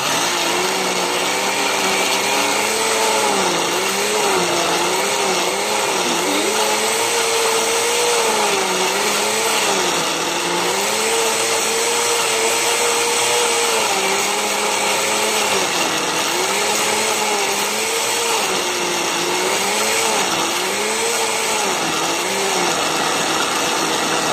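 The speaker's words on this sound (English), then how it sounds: "So let me push the blender." A kitchen blender runs continuously at close range while blending seasoned meat, with a loud steady motor whine whose pitch wavers up and down as the load shifts, and no talking.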